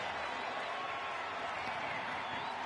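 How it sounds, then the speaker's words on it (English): Crowd noise from wrestling fans in WWE 2K25, a steady wash of cheering with some clapping mixed in, heard continuously beneath a commentator's voice. "you hear the fans cheering for him"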